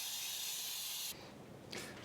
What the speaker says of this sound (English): spray it with baking spray